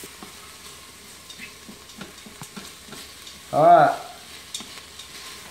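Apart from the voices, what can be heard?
onions and mushrooms sautéing in Instant Pot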